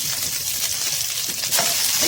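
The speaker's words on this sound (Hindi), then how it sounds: "तो इन राइस को मैं इस सॉसपैन में डाल रही हूँ।" Boiled rice tipped into a saucepan with a tablespoon of hot ghee crackles and sizzles steadily, with a brief clink of a utensil near the end.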